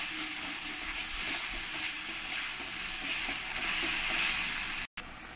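Green chili and tomato paste frying in a pan for a taro and snakehead fish curry, a dense continuous sizzle with soft stirring, close up and without voices, broken by a brief gap near the end.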